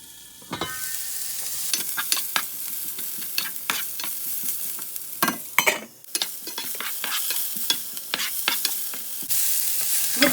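Vegetables fry in a pan for paneer curry, with a steady sizzle broken by clattering scrapes and knocks of a spoon stirring, close and fairly loud, with no voices.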